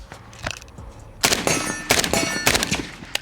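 Suppressed shots from a Stenzel SAK-21 rifle fitted with a low back pressure can ring out at an outdoor range: a faint early pop, then several loud, sharp reports in quick succession, close and unaccompanied by talk.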